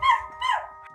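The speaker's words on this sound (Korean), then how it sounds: "계속해서 그러렁거리며 짖는 것을 멈추질 않습니다." A dog left alone in a room barks and growls furiously at a loud noise outside the door: two close, loud bursts of snarling barks with a rough growl running underneath.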